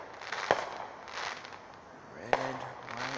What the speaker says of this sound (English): I always liked all the colors of the fireworks.